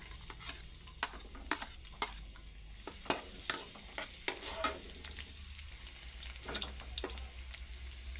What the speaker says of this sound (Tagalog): Nagpapainit na ako ng mantika. Unahin ko yung bawang.